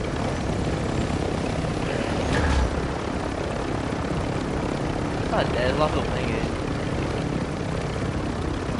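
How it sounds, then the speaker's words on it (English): A chunky helicopter in a video game flies with a constant loud rotor and engine drone filling the whole stretch, while players talk over it. "It's such a chunky helicopter."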